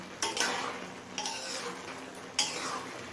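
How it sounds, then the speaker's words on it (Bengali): Sugar being stirred into peas pulao in a pan, a spoon scraping and clinking against the metal in a few distinct strokes over a soft background rustle, close and fairly quiet, no voices. "চিনিটা দিয়েও ভালোভাবে মিশিয়ে নিলাম"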